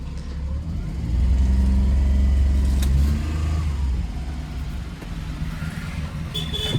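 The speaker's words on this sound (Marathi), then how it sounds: "फर्स्ट गिअर टाकलेला आहे." A car engine revs up and holds a steady drone as it pulls away in first gear, then eases off, heard up close and moderately loud without talk.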